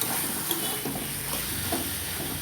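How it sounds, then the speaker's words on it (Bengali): Taro leaves (kochu shak) stirred in a hot pan as their water cooks off, giving a continuous close, dense sizzle and hiss with faint stirring movements. "দেখেছো অনেকটা নাড়তে নাড়তে জলটা শুকিয়ে গেছে।"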